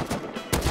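Two quick AK rifle shots in the survival game Rust, sharp and close, spaced about half a second apart with nothing else around them.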